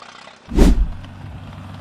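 8-16 antique tractor engine firing up: a short, loud burst as it catches, then settling into a low, steady running rumble close by.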